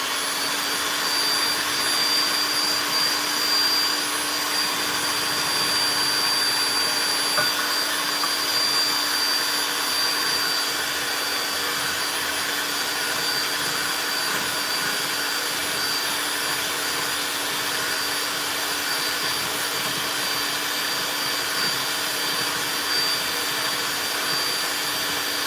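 An electric hand mixer whips macaron batter with sugar, giving a steady, continuous high-pitched motor whine with a faint rattle that holds constant without pause.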